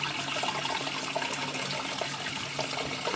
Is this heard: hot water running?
yes